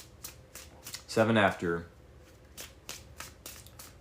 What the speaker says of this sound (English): Let's say 7 after, we do 3 more shuffles.